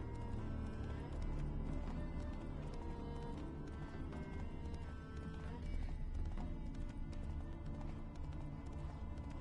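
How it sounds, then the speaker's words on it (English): A horse in The Witcher video game clip-clops along with steady hoofbeats and lets out occasional whinnies, heard amid a dense wash of game sound. "Calm down, Roach. Just bees."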